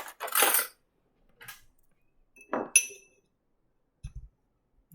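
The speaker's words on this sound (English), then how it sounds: "Let me just get a spoon." A spoon clinks against dishes in a kitchen: a few scattered, light metallic clinks and rattles separated by quiet gaps, with no talk.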